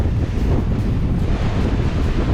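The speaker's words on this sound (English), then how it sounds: "we got some wind" Wind buffets a microphone during a road bike ride, a dense, continuous roaring rush with no speech or other clear sounds.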